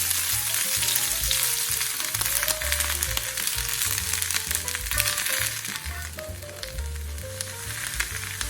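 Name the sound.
cut cabbage frying in vegetable oil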